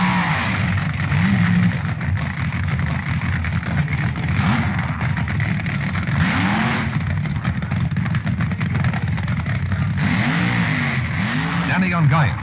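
Loud engines roar and rev in sweeping bursts, 1960s Ford drag racing cars accelerating hard down the strip, with someone talking throughout.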